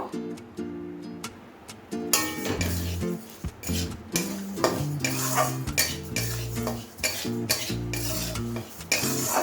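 Mung dal dry-frying in an iron wok (kadai), with busy rattling, scraping and metallic clinks of a spatula against the pan over a sustained tonal hum, close and fairly loud.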